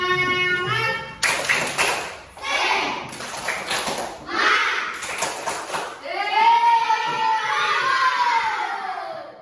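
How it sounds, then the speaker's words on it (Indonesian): A classroom of children clapping together in the rhythmic 'tepuk semangat' pattern, bursts of loud clapping separated by short pauses, with a voice and teacher talk mixed in before a sustained sung or chanted phrase at the end. "Ayo kita tepuk semangat lagi untuk terakhir dalam menutup pelajaran."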